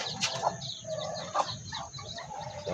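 Chickens in a coop cluck and squawk after being fed, with scattered calls, some rustling and flapping, at close range.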